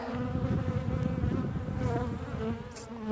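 Honeybees drone steadily around their hives during an early spring check in April, a dense, continuous buzz close by with no talking.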